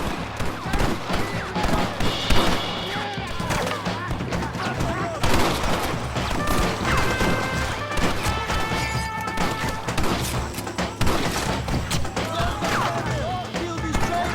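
Dense gunfight in Red Dead Redemption, with rapid overlapping gunshots, crashes and thuds layered over game music for the whole stretch, while voices shout over the gunfire.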